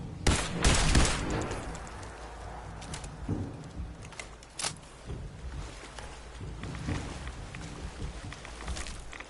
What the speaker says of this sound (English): Shoot him in the face.